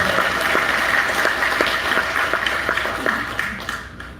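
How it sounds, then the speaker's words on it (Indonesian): An audience at an agricultural fertilizer seminar claps together for a few seconds, a moderately loud, fairly even patter of hands that fades out at the end. "Tepuk tangan untuk kita."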